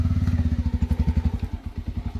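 A motorcycle rides over a rough, muddy village road churned up after a few days of rain. The engine thumps in a steady, pulsing rhythm, close and continuous, with faint clatter and no talk.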